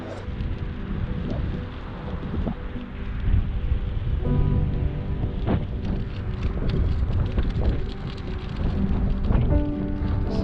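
Wind blows at a snowy Grand Canyon overlook in winter, producing constant loud broadband rumble and buffeting against the microphone with no pauses.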